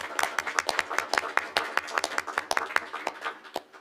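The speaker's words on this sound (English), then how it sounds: "So why don't we give them applause, even though they're not here?" Sparse, scattered hand clapping from a small group at a school board of directors meeting, irregular individual claps close by without a full crowd roar.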